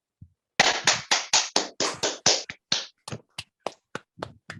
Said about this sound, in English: let's welcome him with a great round of applause